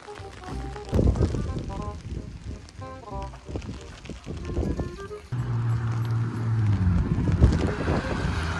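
Gusty autumn wind in the Czech Republic buffets the microphone with rumbling bursts, growing into a steady strong blow in the second half.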